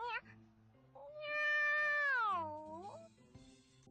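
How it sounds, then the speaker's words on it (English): A cat gives a long, drawn-out meow up close, rising then sliding down, preceded by a shorter mew amid some quiet background sound. "Oh, it's just a cat, huh?"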